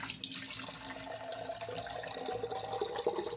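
Water from a tap runs steadily into a sink while flowers are washed before a puja, a continuous close splashing hiss with no speech.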